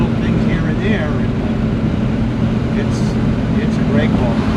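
A 1967 Buick GS400 with a manual transmission cruising at about 2,500 RPM and 55 mph, its steady engine drone and road rumble loud and constant from inside the car.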